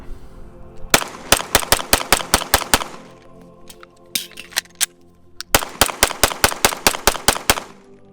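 A Canik TP9DA pistol fires two rapid strings of sharp, loud shots, about eight or nine evenly spaced cracks each, separated by a pause with a few scattered clicks and handling noises during the reload.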